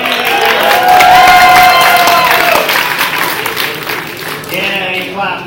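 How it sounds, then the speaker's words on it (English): Students in a classroom break into loud clapping and cheering, with whoops and raised voices on top that peak early, then thin out and fade toward the end while some voices carry on. "you clap now"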